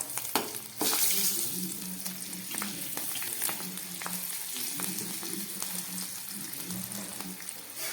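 Dried and green chillies and a bay leaf crackle in hot ghee for a mung dal with vegetables. The frying sizzle is moderate and continuous, with a low hum and scattered stirring clicks.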